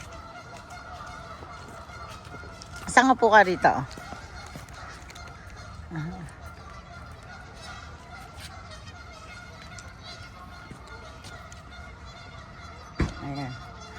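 Geese in Assiniboine Park give a loud burst of several honks close by, then a softer call and one more short honk later, with people chatting quietly in the background.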